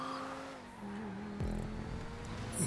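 A race in the video game GTA V, inspired by Barcelona taxis, with engines droning at a steady pitch, a gear shift, and short tire squeals, moderately loud and without speech.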